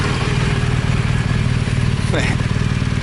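A BMW R1200 GS Adventure motorcycle engine runs steadily at idle, a loud, close rumbling drone that continues evenly throughout with no one speaking.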